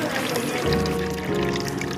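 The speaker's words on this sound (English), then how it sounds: "That is water dispenser." Water pours from a homemade water dispenser built from recycled wood board and scrap materials, a steady close splashing stream running the whole two seconds with faint voices in the background.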